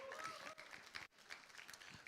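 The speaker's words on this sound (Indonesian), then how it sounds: "Tepukkan tangan kepada dia" Applause from a church congregation during a Sunday service, a short burst of clapping that fills the room with a few voices mixed in.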